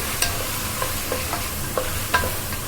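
Vegetable biryani masala frying in a pan, a steady close sizzle with a few sharp stirring scrapes spaced through it.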